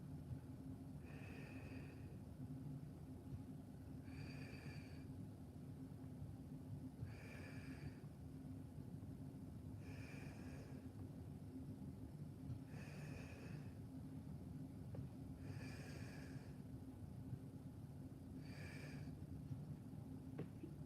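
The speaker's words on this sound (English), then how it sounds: "Exhale as I go up. Inhale as I lower down." Slow, steady breaths in and out during a home Pilates floor exercise, recurring at a regular rhythm about every three seconds, faint and close over a low background hum.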